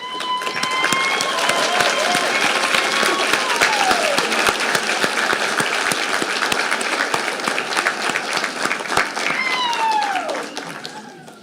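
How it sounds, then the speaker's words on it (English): Sustained applause from a large audience of family and friends at a social work graduation pinning ceremony, steady and dense for about ten seconds before fading, with a voice briefly heard over it near the start and again near the end. "please stand and applaud your family and friends"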